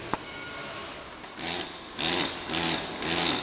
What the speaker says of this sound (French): Je travaille plutôt au marteau pneumatique